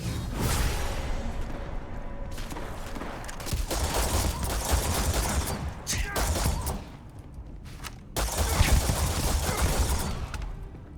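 Rapid gunfire from a weapon in the space game Starfield, delivered in loud sustained bursts with short pauses between them and whooshing impacts mixed in, heard close.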